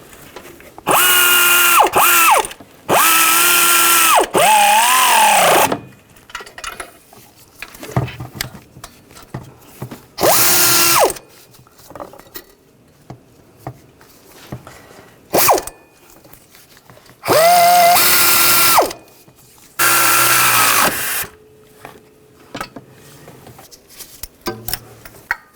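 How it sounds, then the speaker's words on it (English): Power tool driving down turbocharger exhaust manifold nuts on a 2009-2017 VW Tiguan: several loud, close bursts of a few seconds each with rising and falling whine, separated by quieter ratcheting and handling noises, no talk. "And now we'll tighten those nuts down."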